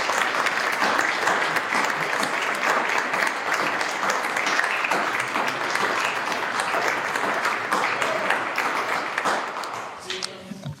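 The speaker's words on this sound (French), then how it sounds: "Je pense qu'on peut les applaudir." An audience at a municipal council installation meeting claps for the newly elected council members, a sustained dense applause lasting about ten seconds before tapering off at the end.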